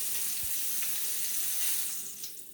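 A scallop seasoned with salt sears in olive oil in a hot pan, giving a steady, close, hissing sizzle that runs unbroken with no voices.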